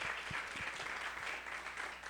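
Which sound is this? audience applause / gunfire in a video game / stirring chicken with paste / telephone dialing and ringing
audience applause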